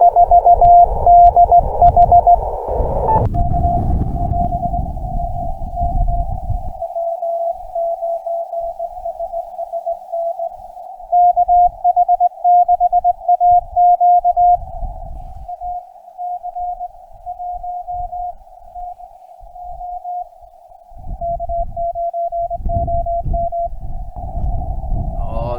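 Morse code CW tone from a Japanese station on a ham radio receiver, a single steady pitched tone keyed on and off in dits and dahs, at times over bursts of static and noise.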